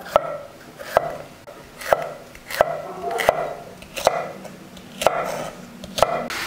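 A knife chops a bell pepper sharply on a cutting board in a steady rhythm, about one cut per second, close and clear, with no talking.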